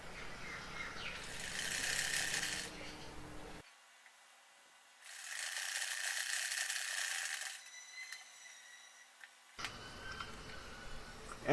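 A sewing machine stitching a seam on a kameez, with two bursts of close, quiet mechanical whirring and ticking separated by pauses, ending with a few light clicks; no speech.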